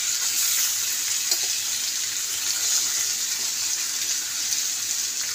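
Marinated fish pieces sizzle steadily in hot oil in a pan, a dense, even crackle with occasional faint clinks, close and moderately loud, no voices.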